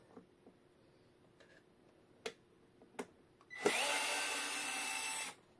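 A small power driver whirs steadily for about two seconds, removing tiny screws from a portable power station, after a few quiet clicks and taps with no talk.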